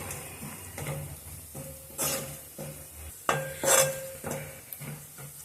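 Turmeric being stirred into ginger-garlic paste in a pan for green chilli chicken curry, a spoon scraping and clinking against the metal in irregular strokes, with a soft sizzle underneath and a few sharper knocks, no voices.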